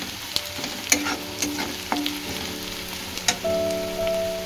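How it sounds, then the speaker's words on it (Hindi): Onions fry in a pan with a steady sizzle, broken by sharp clinks and scrapes of a spoon stirring them, close and fairly loud, with a long tonal hum toward the end. "हमें पियाज को भल से फ्राई करिबा"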